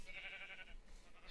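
A sheep bleating in a tornado survival video game, a single short wavering bleat, faint and quiet, heard alone.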